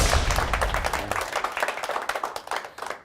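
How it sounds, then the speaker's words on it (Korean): A lecture audience claps for a speaker at a talk on choosing jobs in the culture and content industry: a fairly full burst of applause that thins into scattered, separate claps and then fades. "박수 쳐주세요."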